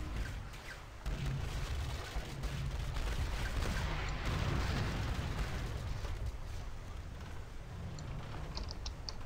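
Stern-mounted cannons firing from a sailing ship in the naval combat game Pirates of the Burning Sea, a sustained rumble of booming shots with crackling impacts that rise then gradually taper off.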